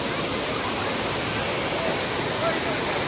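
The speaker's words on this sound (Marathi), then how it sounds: "चला आता आपण या वॉटरफॉलच्या एकदम जवळ जाऊया." A misty waterfall with very clear water roars constantly, a dense, even rush of falling water heard up close with no pauses.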